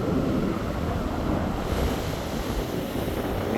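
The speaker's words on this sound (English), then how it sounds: "All the sea foam, waves crashing pretty hard." On a windy winter beach, sea waves crash hard into foam. The surf roars as one continuous wash, mixed with heavy wind buffeting the microphone, and no one speaks.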